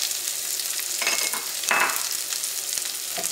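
Onion, ginger and curry leaves with dried red chillies frying in a pan, a bright continuous sizzle with brief louder bursts as the pan is stirred, close up and without talk.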